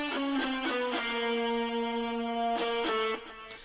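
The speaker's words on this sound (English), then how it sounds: "I had really good fun messing around with the various distortion types" Distortion effect on a final mix, crunching a sustained synth-like tone into a harsh buzzing wall, with a few rhythmic stabs at the start and a note change near the end before it cuts away.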